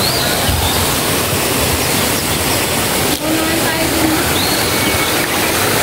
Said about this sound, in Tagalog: May falls na.